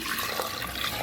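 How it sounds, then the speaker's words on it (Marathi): Water pours steadily into a pot of drumstick soup with garlic, peppercorns, salt and turmeric, a continuous close splashing rush with no talk. "पाणी टाकून दिलं आहे"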